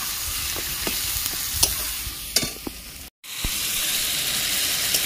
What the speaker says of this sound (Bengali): যতক্ষণ না তেল ছেড়ে বেরিয়ে আসছে ততক্ষণ আমি মশলাটাকে কষাতে থাকবো